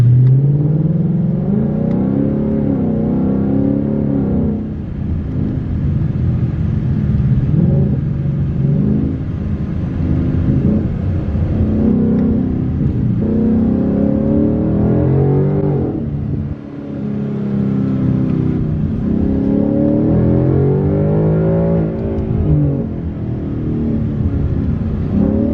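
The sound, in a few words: car engine driving to the auto parts store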